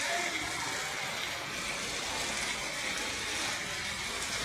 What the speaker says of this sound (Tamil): சரியான மழை பெய்யுது இங்கே கேரளாவில்.